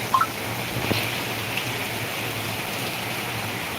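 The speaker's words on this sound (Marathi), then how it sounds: "थांबायचं नावच घ्यायना ना भावांना एवढा पाऊस आहे" Heavy rain pours continuously, a broad steady wash of water with a couple of sharper taps near the start and a faint low hum underneath, no one speaking.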